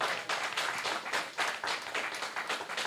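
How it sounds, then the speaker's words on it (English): Faint, steady applause from an audience at a secondary school essay competition presentation, a soft wash of many hands clapping with no talk over it. "Let us give him a round of applause again."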